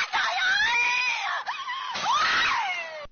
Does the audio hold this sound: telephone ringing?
no